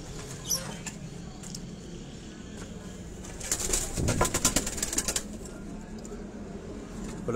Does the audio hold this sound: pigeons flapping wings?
yes